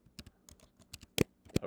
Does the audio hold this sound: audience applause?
no